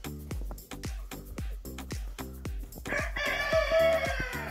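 Chickens clucking in quick repeated bursts, fairly close, with a rooster crowing loudly near the end.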